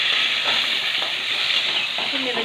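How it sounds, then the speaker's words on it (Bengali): Pumpkin pieces frying in oil as they are stirred, a steady, close, continuous sizzle with faint scraping from the stirring throughout. "এই তেলের মধ্যে কুমড়োগুলো ভেজে নেবো,"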